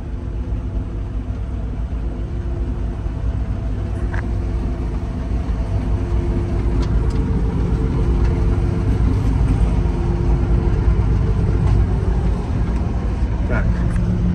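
A Claas Dominator 58 combine harvester's engine drones loud and close as the throttle is lowered, a dense steady rumble with faint speech underneath.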